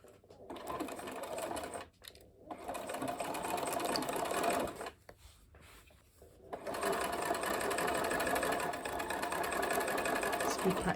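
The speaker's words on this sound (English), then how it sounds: "set your machine to a straight stitch, and we're going to stitch right on the edge of this hem" Sewing machine running a straight stitch along the edge of a pinned hem on a fabric tool roll, steady close whirring in two long runs broken by brief pauses.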